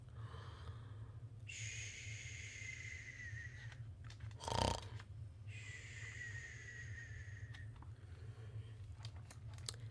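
A snoring granny asleep on a cozy bed in a napping house, heard as two long, drawn-out rasping snores separated by a short gasp, steady and close over a low constant hum.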